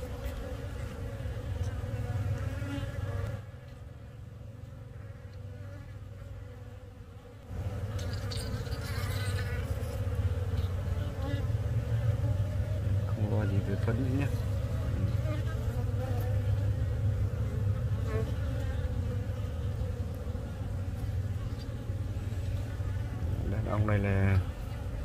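Honeybees buzz around their hives in an apiary, forming a steady, dense hum that runs throughout alongside a low engine-like drone and occasional talking.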